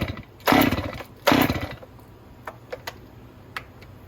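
A Stihl MS 261 chainsaw gives two short, sharp revs a second apart, then settles into a quieter idle with faint scattered clicks and ticks. It sounds close by.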